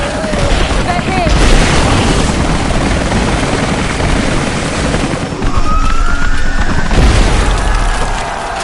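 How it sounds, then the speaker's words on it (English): Military helicopters arrive in Rise of the Tomb Raider as a loud, dense, continuous rotor roar fills the scene, with booming bursts and rising whines layered over it and a voice briefly speaking. "Those choppers should be in range soon. They're here."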